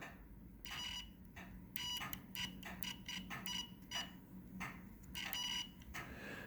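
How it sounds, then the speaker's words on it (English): A multimeter beeps during a continuity test while probing parts of an 18V Ryobi stick vacuum, giving a series of short, sharp electronic tones in irregular bursts, close and clear over a quiet background. "And that noise makes you aware that there is continuity between these two."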